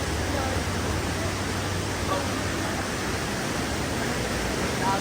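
A waterfall roars in a constant, dense rush of falling water with no break, while faint voices sit beneath it.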